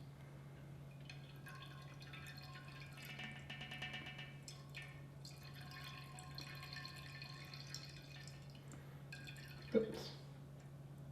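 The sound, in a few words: liquid dripping from siphon tubing while racking fermenter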